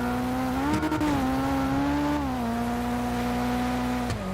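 A car engine in GTA 5 revs steadily, holding a strong, even drone that rises and dips slightly, with a couple of brief knocks near the start and again near the end.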